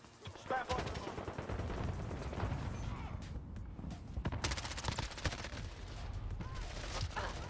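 Rapid bursts of automatic gunfire and scattered shots crackle through a video game firefight, with dense overlapping volleys across the whole stretch.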